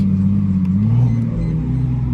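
A car's deep engine rumble and exhaust drone, near and fairly loud and steady for a couple of seconds, on a Dodge Challenger V6 or a 2JZ-powered Lexus IS300 tuned for pops and bangs. No distinct pops stand out.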